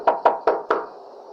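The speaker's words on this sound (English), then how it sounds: "the knock at the bedroom window." Four sharp knocks on a bedroom window come in an even, quick rhythm, loud and close, then fade into a brief ringing tail.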